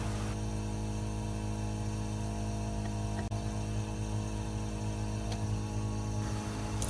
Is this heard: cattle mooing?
no